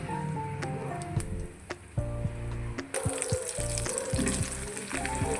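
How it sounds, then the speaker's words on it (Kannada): Onion, chilli and curry leaves sizzling in hot oil for a tempering, a steady close crackle with sharp pops and spatters, getting louder partway through, no talking. "ಇಲ್ಲಿ ಆನಿಯನ್, ಚಿಲ್ಲಿ ಮತ್ತು ಕರಿ ಲೀವ್ಸ್ ತೊಗೊಂಡಿದ್ದೀನಿ. ಇದಿಷ್ಟನ್ನ ಒಗ್ಗರಣೆಗೆ ಸೇರಿಸ್ಕೊಳ್ಳೋಣ"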